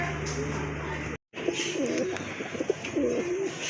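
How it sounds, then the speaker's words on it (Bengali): Several pigeons of fancy show breeds coo in soft, throaty, repeated phrases close by, with a brief silent gap early on and a steady low background hum. "অনেক সুন্দর শেপের কবুতর, ডাউন শেপের কবুতর"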